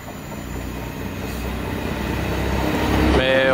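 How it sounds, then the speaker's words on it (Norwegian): IC3 intercity train to Aalborg passing close by with a rising rumble of wheels on rails, growing louder toward the end as a squealing, whining tone enters. "Her har vi IC-toget til Aalborg."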